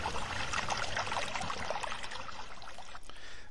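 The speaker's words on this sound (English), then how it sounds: "We just need to turn the volume down on the water at the bridge." Flowing water at a bridge in a video game nature scene makes a steady, close, continuous rushing and trickling wash with no speech.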